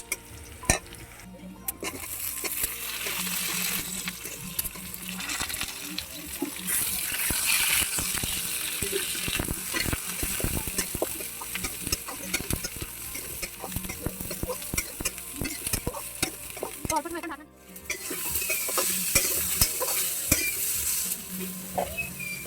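Cauliflower and potatoes sizzle in a wok while being stirred, a continuous crackling fry with scraping and clattering of the spatula, close up, and a brief pause before the sizzle resumes.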